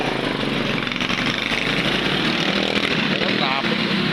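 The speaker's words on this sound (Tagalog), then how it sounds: "Traffic." Steady street traffic with passing motorbikes and engines, a dense continuous rumble close by, with a voice speaking over it in places.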